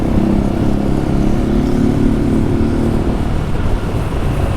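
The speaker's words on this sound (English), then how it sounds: "This little 250 motor runs so smooth" A Halcyon 250 motorcycle's small engine hums in a steady, smooth drone while riding in Florida, loud and close, with wind noise mixed in and no one talking.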